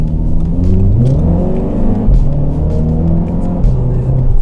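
An Audi TT roadster engine revs up and down with a deep, throaty exhaust rumble partly played through speakers, loud and close, with no talking.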